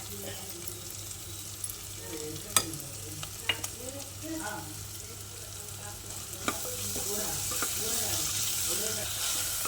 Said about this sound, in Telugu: అల్లం వెల్లుల్లి పేస్ట్ చేసి బాగా కలిపాను